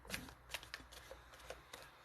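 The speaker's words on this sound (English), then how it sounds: "I shuffle the cards" A deck of cards being shuffled up close, a quick series of crisp riffling flutters and soft taps during a card reading, no talking.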